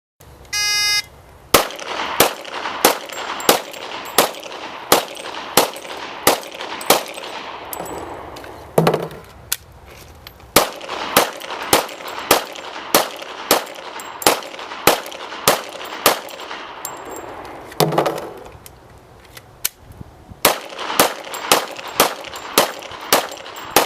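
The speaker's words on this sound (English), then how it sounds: "Now Christy will demonstrate again shooting 30 rounds, this time in 3 10-round magazines." A gun fires 30 rounds from three 10-round magazines, with loud sharp shots in steady, evenly spaced bursts of about ten and brief pauses with clicks and clatter for magazine changes between them.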